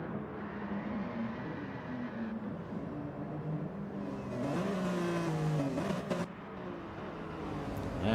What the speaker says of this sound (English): Doug still testing the drifting out on the BMW